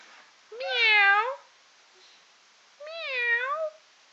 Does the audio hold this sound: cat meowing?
yes